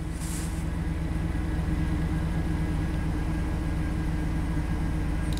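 A GM truck engine idles rough with a misfire, a steady low rumble with an uneven pulsing beat running throughout, close by and continuous.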